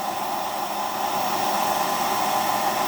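A hair dryer blows steadily and loudly throughout, an unbroken hissing whoosh with no talking.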